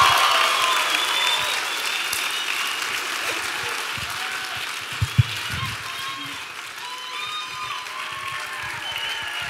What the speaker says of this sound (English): clap your hands and scream your heads off right now